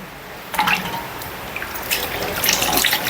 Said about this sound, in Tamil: இப்படி எல்லா மீனையும் நம்ம கழுவி சுத்தம் பண்ணி எடுத்துக்கலாம்